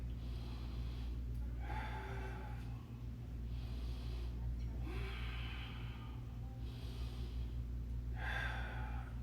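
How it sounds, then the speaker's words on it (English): Heavy rhythmic breathing during a stick mobility exercise, four distinct deep inhale-exhale cycles with snort-like breaths, close and fairly quiet over a steady low background hum. "Breathe."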